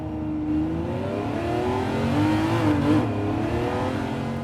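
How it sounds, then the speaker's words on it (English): A Ferrari Testarossa engine in Gran Turismo 7 revs steadily and loudly, its pitch rising and falling smoothly as it accelerates, heard alone without talk. "Listen to that engine."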